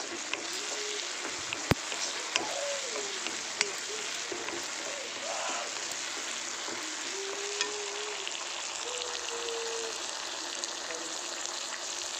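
Vegetables fry in oil for a curry with a continuous soft sizzle and crackle, a few sharp utensil taps now and then, and brief faint voices under the frying.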